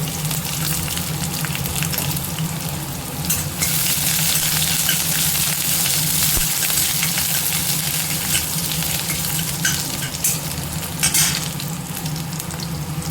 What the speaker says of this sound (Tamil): எண்ணெய் காஞ்சிருச்சு ஒரு அரை துண்டு இஞ்சியை கட் பண்ணி வச்சுருக்கேன் அதையும் சேர்த்துப்போம் பூண்டு நான் முந்திரி பருப்பு